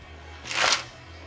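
A single quick riffle of a deck of cards being shuffled during a tarot reading, a short crisp burst rising and fading within about a second, close by.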